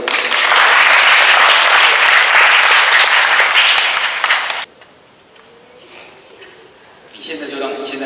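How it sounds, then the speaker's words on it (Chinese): A middle school audience in Fenglin, Hualien bursts into loud, dense clapping for about four and a half seconds, which then cuts off sharply, leaving a quiet room before a voice starts speaking. "大家鼓掌一下，快点！"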